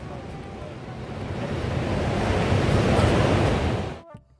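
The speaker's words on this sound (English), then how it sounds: "But it was the wild sea and crashing waves that drew us onward." Wild sea waves break against the Cornwall coast, a broad roaring wash that swells toward a peak and then cuts off sharply near the end, heard close and loud with wind noise.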